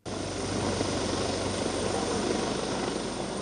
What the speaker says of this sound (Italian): Lo fanno dall'alto con l'elicottero